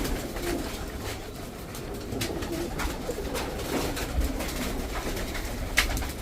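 Pigeons in a loft where young birds are kept coo repeatedly in soft, low, rhythmic calls, close by and fairly quiet, with no speech.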